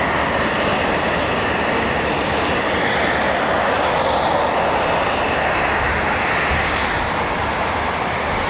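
Eurofighter Typhoon FGR4 jets taking off at RAF Coningsby, a loud, steady roar of jet engines filling the whole stretch without breaks, broad and rumbling with no talking over it.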